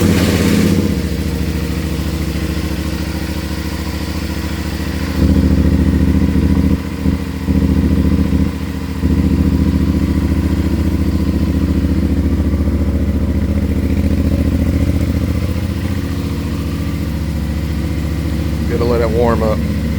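CFMOTO IBEX 450 motorcycle engine held at a steady idle and higher RPM, a continuous close mechanical drone with brief dips mid-way and a short voice near the end.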